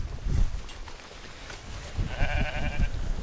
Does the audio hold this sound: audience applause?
no